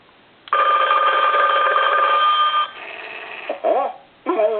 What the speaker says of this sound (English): Oh, did you hear something ringing?